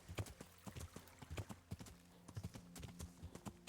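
A horse's hooves clip-clop in quick irregular beats in the video game Kingdom Come Deliverance, fairly close and distinct against a low background.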